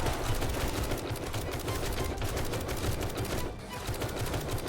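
Sustained, dense gunfire from the 7 Days To Die video game, loud and continuous bursts of shooting during a horde base defense, with no pause across the whole stretch.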